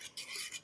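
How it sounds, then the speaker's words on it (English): Nigerian scrambled egg with onions being stirred in a pan, a short close scraping swish in two or three quick strokes with no talking. "Then stir the whole thing."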